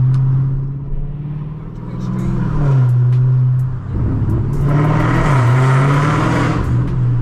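A car engine drones low, then revs up hard and loud as it accelerates after a downshift at a Los Angeles street takeover, with voices talking over the roar.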